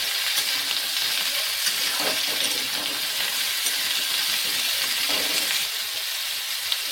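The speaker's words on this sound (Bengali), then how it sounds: "অয়েলের সাথে একটু ভালো করে সবজিগুলো নেড়ে চেড়ে দিচ্ছি।" Mixed vegetables with spinach frying in hot oil in a pan, a loud continuous sizzle with soft scraping as they are stirred around, steady throughout.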